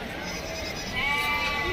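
Goats bleat at a crowded goat market where castrated male goats are sold, a couple of wavering calls rising over steady background crowd noise.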